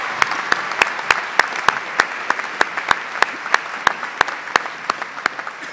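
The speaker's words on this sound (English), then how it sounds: "Please join me in recognizing the accomplishments of these students with a special round of applause." A commencement audience applauds with sharp, evenly spaced claps that stand out over a softer wash of clapping, fairly close and steady for the whole stretch.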